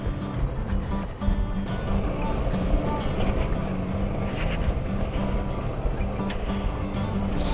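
A 2021 Kawasaki Versys 650 motorcycle splashes through water on a Cornwall trail, making a loud continuous rushing wash of spray and churning water with engine rumble underneath.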